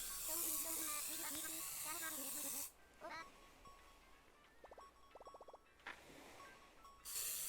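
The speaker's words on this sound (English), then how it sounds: "flying insect spray" A flying insect spray in Animal Crossing: New Horizons lets out a loud, steady hiss lasting a few seconds, then breaks off and returns briefly near the end, with game chimes and tones scattered through the pause.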